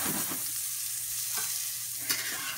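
A schnitzel frying in a pan just after being flipped, a quiet steady sizzle with a few soft knocks and scrapes from the turner, close and without speech.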